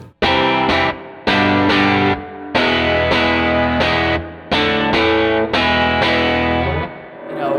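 Distorted electric guitar played through a Fender Hot Rod Deville amplifier with a modified preamp: about ten loud, sustained chord strikes in a rhythmic pattern, each ringing briefly before the next, with no voices.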